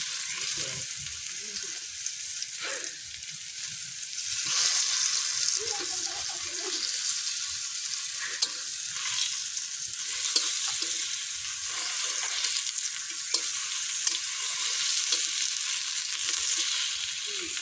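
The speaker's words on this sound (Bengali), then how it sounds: "মাছ ভাজতেছি, এখন মাছগুলো উল্টিয়ে দেব আর কচু দিয়ে ভাজা হবে" Fish frying with water taro in a pan, a continuous loud sizzle with occasional scrapes and turning sounds over a long stretch, close by, with no voice over it.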